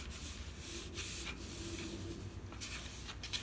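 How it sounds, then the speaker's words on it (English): A hand rubs down glued paper while making a hinge binding for a mini album. Soft, continuous scratchy rubbing is heard up close but quietly, in short repeated strokes. "Let me rub it down a few seconds so I can show you."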